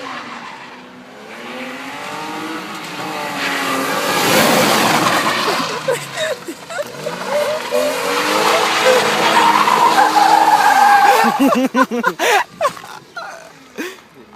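A BMW spins donuts with its tires skidding and squealing, long loud screeching sweeps rising and falling over engine roar, broken up toward the end, with voices nearby.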